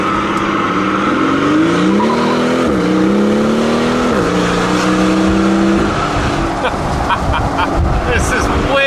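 A straight-piped 6.0L V12 Mercedes S65 AMG rumbles close by, its exhaust climbing through several rising revs in a row before settling into a rough, loud idle.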